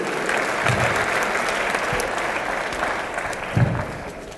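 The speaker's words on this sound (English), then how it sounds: "Another round of applause." Steady audience applause at an annual awards luncheon, a dense wash of many hands clapping at moderate distance for several seconds, with a few louder nearby claps and no voices.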